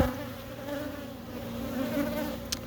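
Honeybees buzzing at an open hive during an inspection, a continuous close droning hum from many bees with steady pitch and a faint brief knock near the end.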